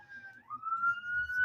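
A police siren wails outside, faint and distant: a single sustained tone that slides upward and then holds, with low background rumble underneath.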